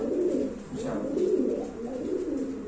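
Soft, low pigeon cooing repeats in a steady rolling rhythm, close by, with no voices.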